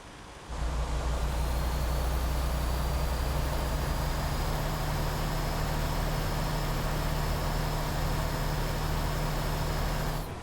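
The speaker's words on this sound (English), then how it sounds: "So does the truck sound appease your ears" A truck engine in American Truck Simulator starts up and then holds a loud, steady drone with a low rumble for the rest of the clip. No one speaks.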